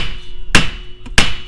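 A hammer strikes twice in quick succession, driving wheel studs into the hub assembly of a 2008 Pontiac Grand Prix, each blow a sharp close metallic clank.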